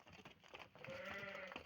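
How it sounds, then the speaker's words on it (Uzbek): A lamb at a livestock farm in Namangan bleats with a short, wavering cry near the end, rising over rustling and faint background noise. "qo'zimiz ham bor, mana qo'zimiz."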